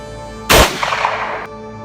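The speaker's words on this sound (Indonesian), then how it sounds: "Sebuah tembakan tepat di bahu kanan Rangga." A single loud gunshot sound effect, a sharp close crack with a short rumbling tail that fades over about a second, over a low steady musical hum.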